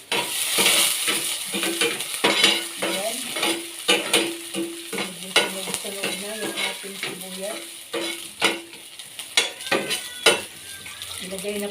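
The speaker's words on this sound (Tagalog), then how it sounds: "Pagkatapos po natin halu-haluin ang ating sibuyas at bawang." Onion and garlic stir-fried in a kawali for chopsuey: a steady frying hiss with repeated scraping, clacking stirs of a utensil against the pan, plus faint voice-like tones in the background.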